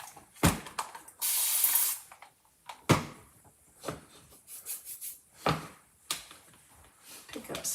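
A hissing burst of spray wets a chalk art piece with paste, loud and steady for under a second, between scattered rubbing, tapping and handling sounds with no talk.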